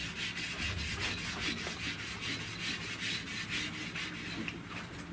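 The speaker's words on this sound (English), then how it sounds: "this is just a scuff pad" A scuff pad scrubs rapidly back and forth over the rear window glass of a 1970 Buick Wildcat during prep for glass installation, a close, rhythmic abrasive rasping with no talk.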